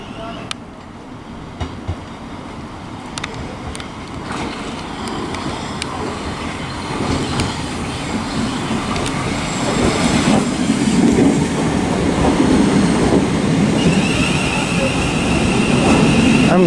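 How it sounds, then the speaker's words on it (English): A Thameslink service terminating from London Blackfriars pulls into Sevenoaks station. Its low rumble and wheel noise build steadily over many seconds, with faint clicks and a brief high squeal near the end. "now arriving is going to be a terminating Thameslink service from London Blackfriars"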